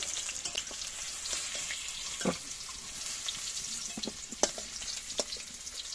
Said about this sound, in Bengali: আলু আর মূলো এরকম লাল করে ভেজে নিয়েছি, এবার তুলে নেব।